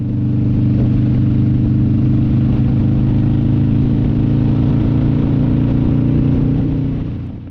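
A motorcycle engine holds a steady mid-pitched drone while riding toward Milford Sound through Fiordland's misty mountains, loud and continuous throughout with no talk.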